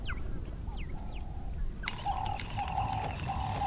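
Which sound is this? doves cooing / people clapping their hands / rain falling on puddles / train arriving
doves cooing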